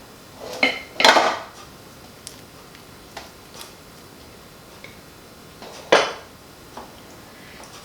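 A few scattered metallic clanks and clinks as a metal loaf pan is handled on a counter, with quiet pauses between.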